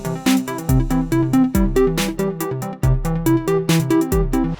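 Layered synth tones built with MIDI FX in Logic Pro play alone as a dense, rhythmic pattern of repeated plucked notes and chords with deep bass hits, loud and steady throughout.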